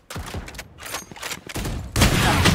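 Rapid gunfire in a tactical team shooter video game, dense bursts of shots crackling close and loud, intensifying into a sustained fusillade at the end.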